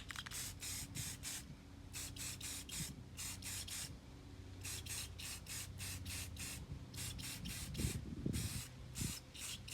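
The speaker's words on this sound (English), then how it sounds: "So we're going to give it a little test spray." Repeated short bursts of aerosol spray paint hissing onto a model tree in quick succession, with brief pauses between clusters, close and steady against faint low rumble.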